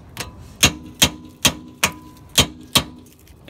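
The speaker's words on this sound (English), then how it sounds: "I'm gonna hit the back of this with the hammer" A hammer strikes a tool again and again to break loose rusty front brake bolts on an Acura TL, giving about seven sharp metallic knocks in a steady rhythm, close and loud with no talk.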